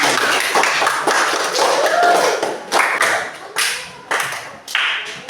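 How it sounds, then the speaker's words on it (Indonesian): A class claps for a student group in a classroom: a short burst of uneven hand claps that breaks into separate loud slaps and taps, close by and fading in spurts. "kasih aplaus tepuk tangan"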